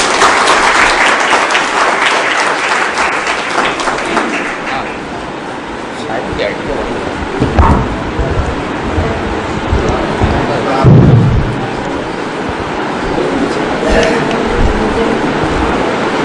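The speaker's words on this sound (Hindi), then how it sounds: "तालियों के साथ इस्तकबाल कीजिए।" Loud applause from an audience in a Haj training centre hall in Malegaon, India, welcomes a speaker, with dense clapping at first that thins into scattered claps and a few louder bursts.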